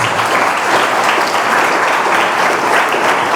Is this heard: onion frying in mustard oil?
no